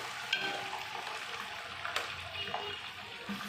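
Garlic paste frying in oil with browned onions in a pot for chicken biryani, a steady close sizzle and bubbling with occasional stirring scrapes and clinks, no talk.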